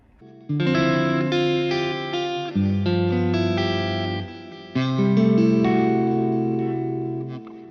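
Sustained electric guitar chords with chorus and reverb, three long strummed major chords with a sharp eleven ringing out, bright and shimmering with a tense, modern color.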